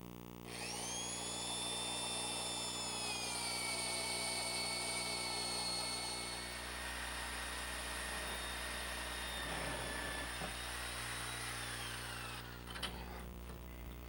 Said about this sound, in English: right now I'm going to cut through our bottom plate using this right angle drill